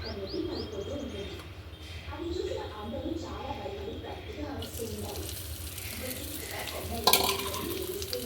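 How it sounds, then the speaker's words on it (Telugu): Onions and green chillies frying in hot oil over a village-style wood fire stove, a steady close sizzle and crackle under a voice, with birds cooing and chirping in the background. "నూనె కూడా వేడైంది ఉల్లిపాయలు పచ్చిమిర్చి వేయించుకుందాం"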